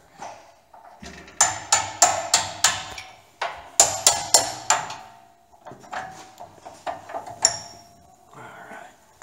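Metal hammer blows on a steel punch driving out pins, landing in two quick bursts of four to five sharp, ringing strikes, then scattered lighter taps and clinks of parts being set down nearby.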